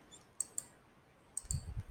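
Mouse clicks while selecting filters in the Sensibull options trading app: two pairs of sharp, light clicks, close and quiet, with a low thump near the end and no talk.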